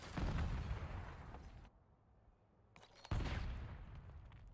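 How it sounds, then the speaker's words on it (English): A grenade blasts inside a building in a video game, a burst of sharp explosive crackle followed by a brief lull and a second loud boom. "Person's throwing a grenade into the building."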